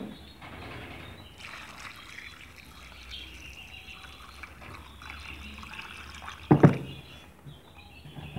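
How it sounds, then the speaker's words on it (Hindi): Carrots and peas being washed in water for a vegetable salan, a soft continuous swishing and trickling close by, ending in a brief louder splash near the end, with no talking. "अब गाजर और मटर को हम धो लेंगे।"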